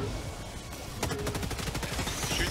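Gunfire aimed at enemies in the co-op shooter Helldivers 2, a fast stream of rapid shots that thickens into dense automatic fire after the first second, fairly close and steady throughout.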